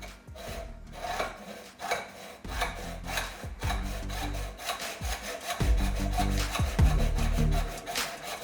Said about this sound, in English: May have to use the hacksaw for this